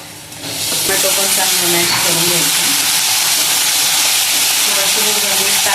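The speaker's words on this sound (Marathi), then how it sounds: "बारीक चिरलेला एक कांदा टाकायचा गुलाबी रंग होईपर्यंत फ्राय करून घेऊया" Chopped onion and tomato fry in a pan on a home stove, a loud, dense, continuous sizzle that swells in after a quieter start and holds steady.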